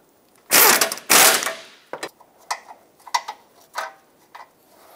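A ratchet tightening front bumper bolts on a 2014-2021 Mazda 6, two loud close bursts of clicking followed by shorter scattered ratchet clicks and light taps, no talking.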